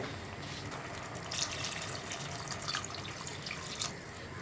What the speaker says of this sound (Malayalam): ഞാനിപ്പോൾ കുറച്ചുകൂടി വെള്ളം ചേർക്കുന്നുണ്ട്